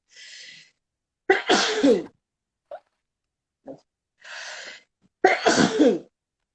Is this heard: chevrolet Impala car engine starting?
no